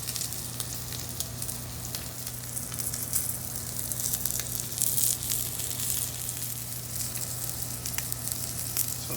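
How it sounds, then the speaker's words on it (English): A pork loin steak searing in a cast iron pan gives a steady, even sizzle and crackle with an underlying hum, close and moderately loud, with no voices. "While the pork is finishing searing on the other side"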